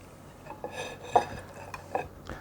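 Metal spatula scraping and clinking against a pan while working homemade meatloaf with green peppers and celery loose: several short, light metallic taps and scrapes, close and quiet.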